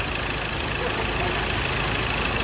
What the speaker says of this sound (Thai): ต้องสตาร์ททิ้งไว้สักพักหนึ่งนะ